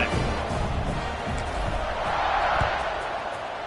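A football stadium crowd roaring after a scoring drive as the kickoff unit lines up, a broad, steady wash of distant cheering that swells slightly midway and holds throughout.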